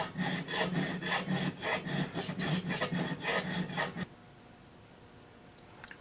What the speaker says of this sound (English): I've just about filed it right here, but I'll have to come back here and taper that a little bit more.